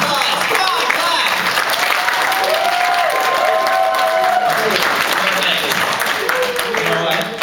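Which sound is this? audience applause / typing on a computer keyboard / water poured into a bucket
audience applause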